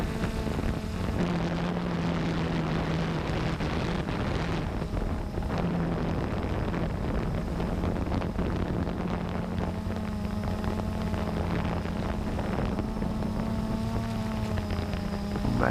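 A Blade 350 QX3 quadcopter drone buzzes steadily as it flies in gusty wind, its droning motor tones wavering under heavy wind noise, with no voices.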